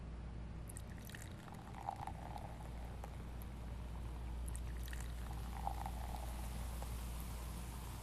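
Sparkling wine poured into a glass, a soft steady fizz and trickle with faint clinks, close and quiet against a low background hum.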